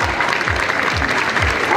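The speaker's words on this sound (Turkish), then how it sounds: "Alkışlarımızla." Audience at a kilim festival in Eşme applauding a balcony decoration award winner, a close, dense burst of clapping with a steady beat, while a voice speaks faintly over it.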